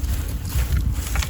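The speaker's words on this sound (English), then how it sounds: "It's a little bit windy, so let's bear with." Wind buffets a microphone outdoors in a garden, a rough, loud rumbling gust noise with no talking.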